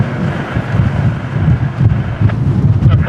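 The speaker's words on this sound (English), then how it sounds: "It's windy." Strong gusting wind at Lisbon Airport, a steady heavy roar that buffets the microphone and rises and falls in loudness throughout, with no speech over it.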